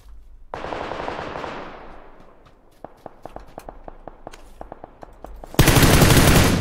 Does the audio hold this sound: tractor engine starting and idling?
no